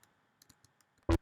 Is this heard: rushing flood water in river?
no